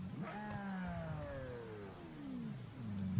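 Car engine in the BeamNG Drive driving game revs up and then slowly winds down, the pitch sliding downward over a few seconds before climbing again; heard alone at moderate volume.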